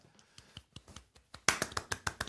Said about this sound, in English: Another clap.